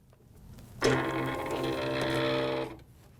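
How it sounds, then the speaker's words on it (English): A Silhouette vinyl cutting machine whirs for about two seconds as it loads the cutting mat, a steady motorized hum with a sharp start and clean stop, fairly quiet and alone. "Put the mat in the machine."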